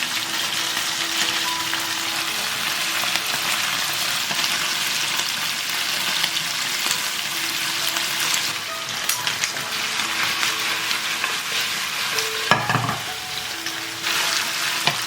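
Flipped chicken pieces, browned golden on one side, fry in a little oil in a flat skillet, making a dense continuous sizzle up close, broken by a short utensil knock near the end, with no talking.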